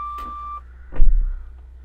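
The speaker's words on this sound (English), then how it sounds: "I don't know why it's beeping though." Short electronic beeps from a Rolls-Royce, Maybach and Bentley-based luxury taxi cabin, a bright tone near the start followed by a louder thump and rustle, close and alone with no talk.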